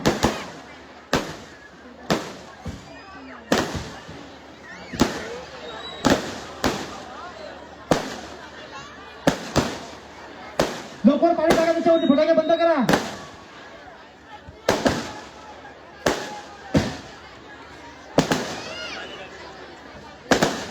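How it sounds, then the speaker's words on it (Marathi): Firecrackers burst at a political rally for a Lok Sabha candidate in Mumbai, a loud, steady string of sharp bangs roughly every second for the whole stretch, with crowd noise and an amplified voice underneath. "फटाके बंद करा त्याच्यावरती पाणी टाका"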